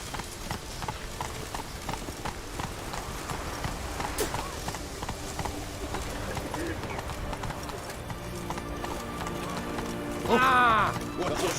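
Roach, the horse in The Witcher 3, gallops in steady rhythmic hoofbeats throughout, with a brief louder whinny-like burst near the end and voices talking over the hooves.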